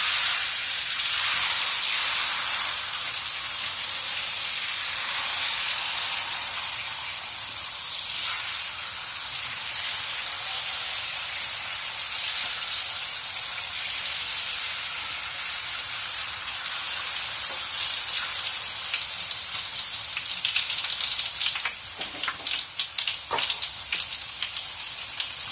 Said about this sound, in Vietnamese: Chiên bếp ga thì nó hơi lâu các bạn.